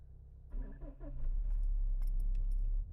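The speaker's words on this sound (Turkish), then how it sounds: "Güzel anahtarlık." Car keys on a keychain jingle in bright metallic clinks near a Subaru, Mitsubishi or Toyota drag-racing car. A low engine idle hums steadily underneath.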